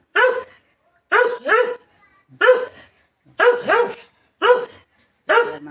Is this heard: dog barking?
yes